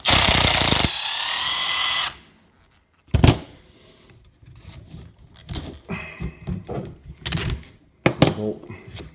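A power tool backing bolts out of a Losi 5ive T RC truck: a loud buzzing burst up front, then clicks, clunks and handling noises of parts being moved, close by.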